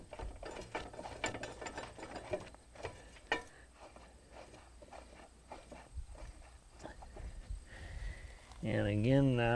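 Ratcheting clicks from a wrench snugging a bolt on a no-till planter seed opener, close and moderately quiet, with intermittent metallic clinks and someone talking quietly in between.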